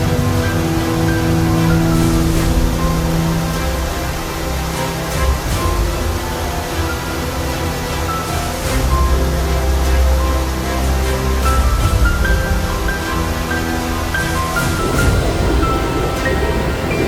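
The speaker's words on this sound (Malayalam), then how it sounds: "എന്റെ ബാക്കിൽ നോക്കി വെള്ളം ഒഴുകുന്നത് കണ്ടോ, എന്ത് ഭംഗിയാണെന്നറിയോ" Strongly flowing river water at Kollengode in Palakkad, a steady, loud broadband rush that holds constant throughout, close by, with no talk over it.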